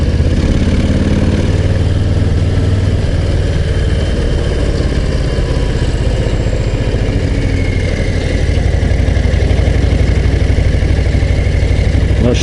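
A Harley-Davidson Low Rider ST motorcycle engine rumbles continuously, loud and close, a dense low throb that holds steady and swells slightly near the end, with no talking over it.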